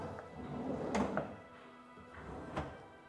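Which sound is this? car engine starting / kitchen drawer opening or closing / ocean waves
kitchen drawer opening or closing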